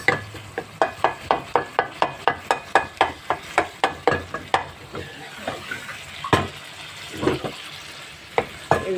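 Chicken pieces frying in a pan and being stirred, with a fast run of regular scraping and knocking strokes over a soft sizzle, then scattered louder knocks near the end, close and alone.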